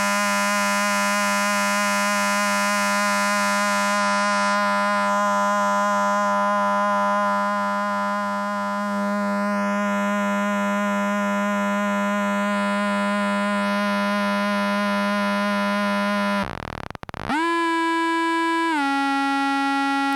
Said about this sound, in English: the master volume knob here controls the pitch of the feedback